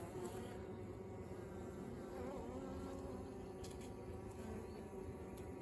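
Honey bees buzzing inside an opened hive while working on uncapped honey frames, a dense continuous drone close by at low level with no pauses.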